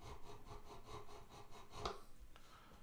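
A metal file rasps across guitar frets, flattening and crowning the fret tops, in a steady series of short back-and-forth scraping strokes, close and quiet, followed by a couple of light clicks.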